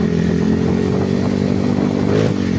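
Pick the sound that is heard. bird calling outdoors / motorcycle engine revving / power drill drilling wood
motorcycle engine revving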